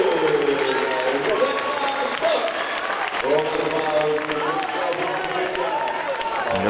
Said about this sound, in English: Applause for Rebecca Stutz and also there for Makoto Yamuchi.